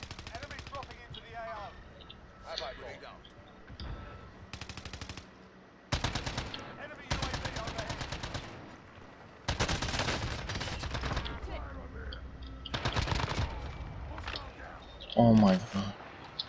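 Bursts of EM2 rifle gunfire in Call of Duty Warzone, rapid automatic volleys in several separate strings with gaps between them, loud and close, with someone talking over and between the shots.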